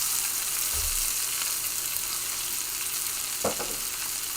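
Tomatoes and onions dropped into a hot sizzling pan for basil pesto, a constant close frying hiss with a couple of brief thuds as the vegetables land, no voices.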